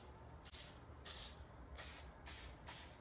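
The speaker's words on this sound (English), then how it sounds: "when you're spraying hairspray, you always want to spray it 10 to 12 inches away" Short bursts of hairspray hiss out of an aerosol can, five quick sprays in a steady rhythm, close and fairly loud.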